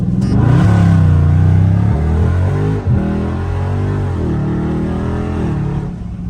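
A catless Dodge Scat Pack in track mode, revving hard up close with a deep, loud exhaust roar that rises, dips and climbs again, a brief crackle mid-rev, then holds a heavy rumble.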